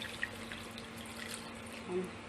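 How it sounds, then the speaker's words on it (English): Water poured into a cooking pot of chicken adobo, a soft trickling splash rising briefly near the end, with faint drips and clinks around it. "add some water,"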